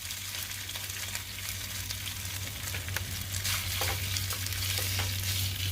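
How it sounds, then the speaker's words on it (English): Food fries in a pan inside a van, with a dense, continuous close sizzle that grows slightly louder and busier toward the end, and occasional soft stirring clicks. "Just put them in the pan and"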